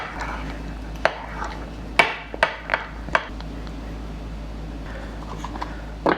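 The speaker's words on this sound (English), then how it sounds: "I'll just stir it up just so it's all mixed and put the top on." A spoon clinks and scrapes inside a jar of sourdough starter during stirring, a few sharp knocks in quick succession, then a final clatter as the lid goes on; quiet room tone between.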